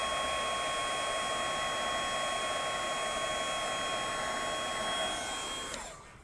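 Heat tool blowing hot air over embossing powder, a loud steady close whir with a high whine that runs unbroken and then winds down at the end.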